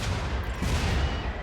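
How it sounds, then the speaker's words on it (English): Mortar fire in RimWorld during a fight with a mech cluster in a Star Wars mod: a dense, continuous low rumbling barrage of booms for about a second and a half, loud and steady with no talk. "mortars are working great"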